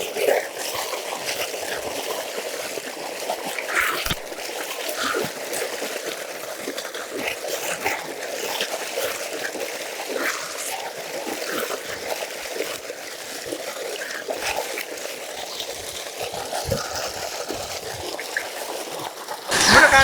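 Water splashes and trickles steadily as kuppaimeni leaf paste is rinsed off the skin, a close, continuous wet patter with small irregular splashes throughout.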